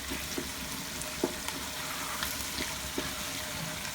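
Cauliflower curry masala with dissolved tomatoes sizzles gently in a pan, a soft continuous frying hiss broken by a few light taps and scrapes of stirring, close and fairly quiet.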